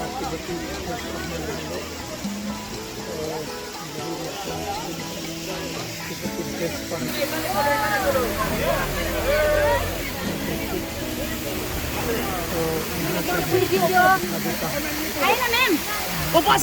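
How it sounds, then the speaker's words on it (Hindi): Bhaktang waterfall beside the main road near Gangtok, a steady broadband rush of falling water heard continuously throughout, with people talking and chattering over it. "यहाँ से आपको ये दिखता है वाटरफॉल"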